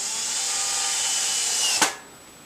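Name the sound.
power drill driving 1¼ inch screws into bookcase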